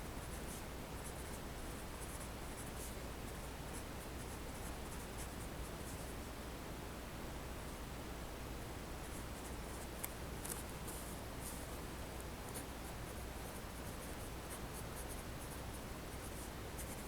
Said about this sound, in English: let's go ahead and write that statement down